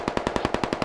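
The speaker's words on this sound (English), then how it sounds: "Shooting the wheels of the vehicle to make sure it does not get to safety" Rapid automatic gunfire in the video game Squad, aimed at a vehicle's wheels: about ten evenly spaced, loud, close shots in under a second, with no talk.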